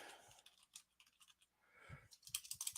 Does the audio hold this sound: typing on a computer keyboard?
yes